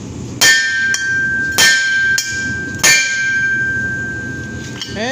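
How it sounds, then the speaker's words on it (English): A hammer rings against a Dodge Cummins driveshaft in three heavy metallic strikes, each with a lighter follow-up tap, and the clang leaves a long resonant ring that fades slowly over steady background noise. "it's taking quite a bit of hammering"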